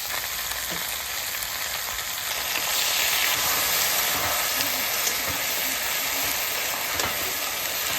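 Taro stolons and spices fry in a hot pan, giving a steady, close sizzle with some stirring scrapes throughout.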